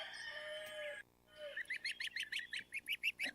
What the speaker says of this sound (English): Now you can hear the little peeps.